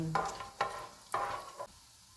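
Whole spices (green and black cardamom, cumin seeds, black peppercorns, cloves) fry in hot oil, with a soft sizzle broken by several stirring scrapes spaced about half a second apart.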